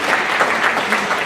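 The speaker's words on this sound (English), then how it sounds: "Thank you for those of you who clapped." A keynote-speech audience breaks into applause, a steady wash of clapping from a moderately sized crowd that holds evenly across the short span, with no talking.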